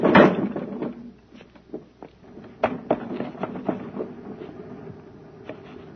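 A door creaks and bumps as it is pushed open, with a sharp knock at the start followed by several scattered clunks and rattles nearby.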